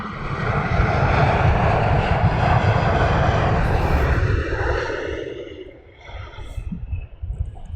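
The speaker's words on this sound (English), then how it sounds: "Now, I'd be very surprised if this bizjet decides to backtrack." A business jet at Luton Airport on a windy afternoon, its engines giving a loud, steady roar that fades out after several seconds, leaving a quieter mix of wind and ground noise.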